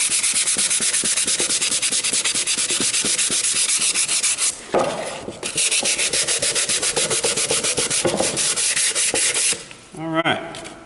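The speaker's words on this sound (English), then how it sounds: "And I got this last side to sand." Sandpaper rubs back and forth on the edges of a wooden birdhouse in fast, rhythmic strokes, loud and close, with a brief pause midway and a short scrape near the end.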